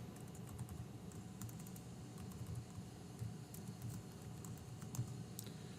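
Typing on a computer keyboard during a programming lecture, a steady patter of soft key clicks at a modest distance over a low room hum, no talk.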